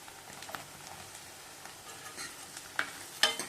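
Finely chopped carrot goes into onions frying in a pan for a chicken stew, giving a steady sizzle with light stirring scrapes and a couple of sharper utensil clinks toward the end.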